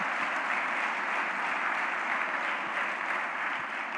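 A church congregation applauds in a steady, even burst of clapping that fills the room at moderate distance without pause.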